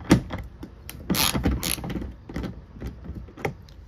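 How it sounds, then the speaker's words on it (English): A 10 mm socket wrench loosening the tail light bolts on a Toyota RAV: irregular close metallic clicks and rattles with short scraping bursts, loud near the start and then scattered. "I'm gonna use my 10 millimeter socket. And just remove these bolts."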